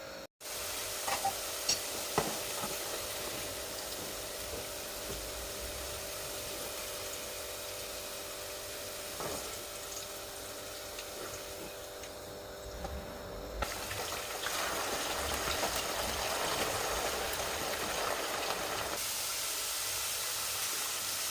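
Eggplant fries in a pan with a steady, loud hissing sizzle throughout, swelling brighter near the end as the oil spits.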